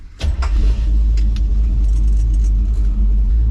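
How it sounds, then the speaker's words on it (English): A 327 V8 in a 1963 Chevrolet Impala two-door hardtop cranks briefly, then fires and settles into a loud, deep, lumpy idle rumble close by. "So let's fire up this 327 and go for a ride."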